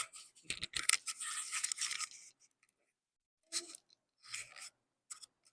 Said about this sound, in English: Let me put this microphone on here.